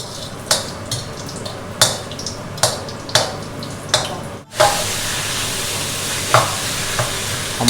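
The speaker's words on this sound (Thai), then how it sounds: "เดี๋ยวเราไปคั่วเลยนะครับ" Minced pork larb being stir-fried in a pan, with a run of sharp, rhythmic spatula scrapes and clanks over sizzling, then a steady loud sizzle with occasional stirs.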